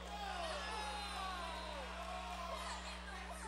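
A basketball crowd in a gym reacts to a double dribble call with a steady wash of overlapping shouts and protesting voices under a low electrical hum.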